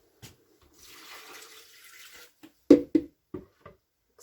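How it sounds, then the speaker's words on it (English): Cold water pours from a tap into a pot of collard greens in a short steady stream, then a few splashes and knocks as it stops. "finish this with cold water, just enough to cover our greens"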